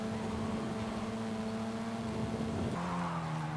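Car engine in Forza Horizon 5 holding a steady droning tone, then a sudden shift at a handbrake skid as the revs drop and tyres scrub, loud and continuous throughout.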